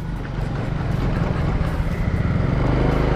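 A manual-gear underbone motorcycle engine runs close by with a pulsing, buzzy drone, shifting up through first and second gear in a steady, continuous stretch.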